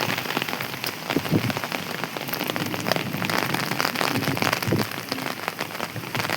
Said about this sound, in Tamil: நல்லா பெஞ்சு முடிச்சிருச்சு, லேசாக பெஞ்சிட்ருக்கு